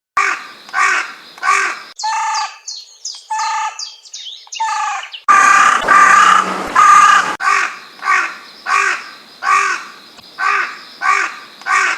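Carrion crow calling in a series of harsh, rhythmic caws, with a run of longer drawn-out calls and a brief burst of broadband noise midway; the calls are loud, close and steady, with no talking.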